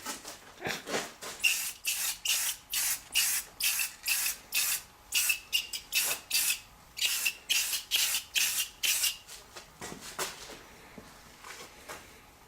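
An aerosol can sprays paint onto a red truck part in short, even hissing bursts, about two per second, close and steady for most of the stretch before a few looser passes at the end, with no talking.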